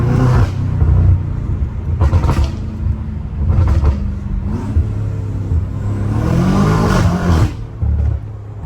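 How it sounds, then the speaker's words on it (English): BMW M5 Competition driven hard on a wet road in the rain, its engine revving and surging with turbo spool whooshes over a steady rumble, wheels slipping, loud and close from inside the car. "Just listen to the spools, bro."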